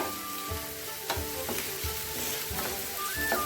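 Onions sauté in a pan with a continuous close sizzle and crackle, broken by repeated scraping stirs at a fairly even pace, without any voices.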